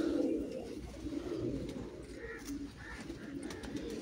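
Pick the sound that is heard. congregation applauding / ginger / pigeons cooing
pigeons cooing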